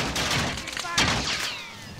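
Gunfire in a Call of Duty Warzone match, a burst of several shots over about two seconds that builds to a louder crack near the middle, with a voice talking underneath.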